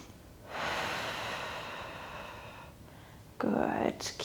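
Deep, sustained exhalation during a low-impact dumbbell workout, one long breath lasting about two seconds followed by a sharper, louder inhale or gasp near the end, close and clear with no talking.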